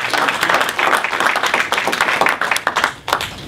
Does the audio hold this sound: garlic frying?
no